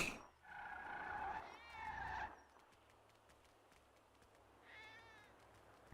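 A cat meows in a roleplay video game, with a long drawn-out meow and a second meow that follows right after it. A third, fainter meow comes a few seconds later over quiet background hum.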